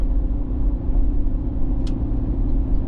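A Toyota LandCruiser engine drones steadily as the vehicle picks up speed on the road, heard as a low, continuous cabin rumble with no talking.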